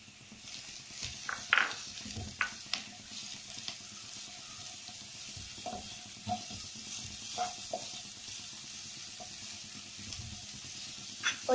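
Cabbage sizzles in a pan and is stirred now and then for an egg sandwich. The frying hiss is soft and steady, with scattered clinks and scrapes and no talking.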